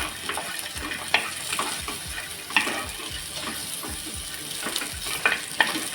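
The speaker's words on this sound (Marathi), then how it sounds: "सुकं खोबरं आपल्याला छान असं याच्यामध्ये एकदम मस्त असं भाजून घ्यायचं आहे थोडा कलर चेंज होईपर्यंत" Dried coconut roasts in a pan while being stirred continuously. A dry crackling sizzle runs throughout, with frequent scraping strokes and occasional sharper knocks of the spoon against the pan. No voices are heard.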